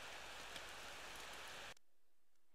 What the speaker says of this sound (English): It was a rainy after school day, just like this.